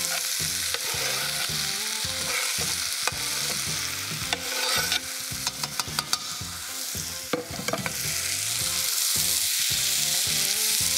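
Fresh tomatoes of several varieties sizzle and fry steadily in a hot pan, with repeated scraping and stirring strokes throughout, close and fairly loud, no voices.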